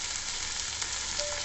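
Chopped onions frying in a kadai, a soft, even sizzle of hot oil, steady and close with no voices, running unbroken for a moment.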